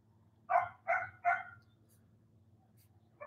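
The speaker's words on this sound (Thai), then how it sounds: "หมาผมก็มันเริ่มเห่าละ" Dog barking indoors, three quick loud barks in a row followed by quiet, then a short fainter bark at the end over a low background hum.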